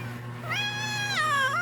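A single drawn-out cat meow, close and clear, rising then bending down at the end, over a low steady hum.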